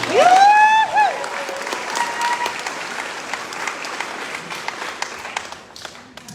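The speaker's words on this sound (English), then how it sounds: "Let's give her another round of applause," A graduation ceremony audience breaks into loud, dense applause that swells at once and then slowly thins out, with a voice speaking briefly at the start.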